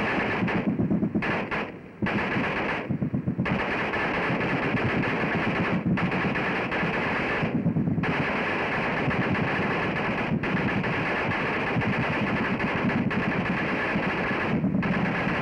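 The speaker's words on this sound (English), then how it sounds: "Listen for the flight of the bullets and the report of discharge of the guns." Heavy machine gun fire during American soldiers' training, heard from the receiving end: continuous loud bursts of automatic fire with sharp cracks of passing bullets and the reports of discharge, broken by brief pauses between bursts.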